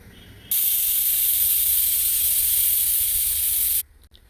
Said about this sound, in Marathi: अशा प्रकारे आपली 1 शिट्टी झालेली आहे.